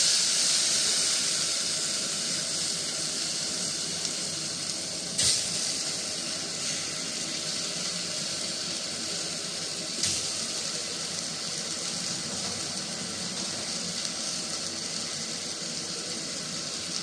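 Water poured onto rice sautéed in butter sends up a steady, loud, even hiss of steam that carries on throughout, broken only by a couple of brief knocks.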